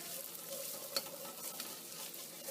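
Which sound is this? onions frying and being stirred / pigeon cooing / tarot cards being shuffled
onions frying and being stirred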